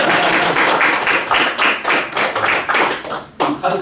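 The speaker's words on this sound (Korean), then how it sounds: "이제 박수 한번." A small audience claps at a Buddhist sutra lecture on the Diamond Sutra, a brisk round of close hand claps of uneven rhythm lasting a few seconds.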